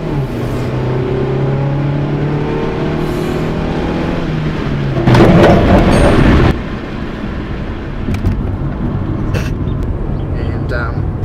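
A Hyundai Getz hatchback drives along with a steady engine rumble and road noise from inside the cabin, swelling into a louder rattly burst midway before settling again.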